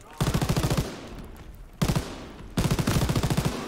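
Rapid automatic gunfire from a Call of Duty WW2 game, coming in three loud, close bursts of evenly spaced shots separated by short pauses.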